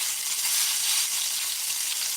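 Steak sears in a Wagner 5-Star combo cast iron skillet, giving a dense, continuous high sizzle heard up close with no pauses or voices.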